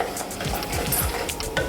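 Curry leaves, spices and crushed pepper being stirred in a hot pan for Kerala-style rasam, with soft repeated scraping strokes and a light sizzle, close and fairly quiet.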